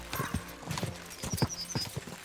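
A horse in Kingdom Come Deliverance II gallops in quick, rhythmic hoofbeats, close and brisk, with a short snort and whinny over the running.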